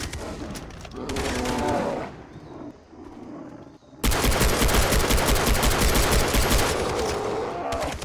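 Bursts of rapid automatic gunfire from a machine gun in the video game Far Cry 3, a short volley, a pause with low rumbling, then a long sustained stream of rapid shots.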